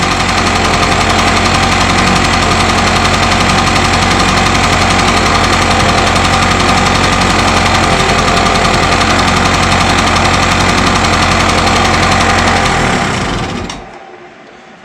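A Puch Magnum X moped engine running on its own, a loud, close, steady buzzing drone with fast rattling pulses that holds for most of the clip, then cuts out near the end.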